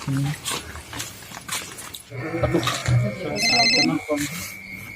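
A phone rings with a short electronic ringtone, its high repeating tones arriving partway through amid casual conversation among friends hanging out; people talk before and over the ringing.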